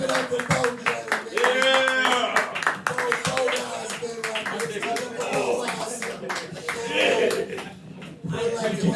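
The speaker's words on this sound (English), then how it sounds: "Clap it up for both gentlemen." An audience claps for two men at a comedy show, a dense patter of many hands sustained through the stretch, with scattered chuckles and a voice talking over it.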